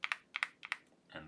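Typing on stock linear switches on a Mr Suit mechanical keyboard, a few quick, clicky keystrokes in small bursts, fairly faint, ending in a brief burst of other noise.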